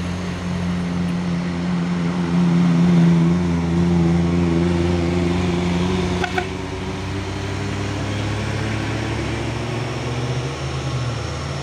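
An orange Fuso 6x2 truck labours up the Bukit Kodok hill, its deep diesel engine droning steadily and close. The pitch rises briefly, then settles into a continuous climbing growl with a brief knock partway through.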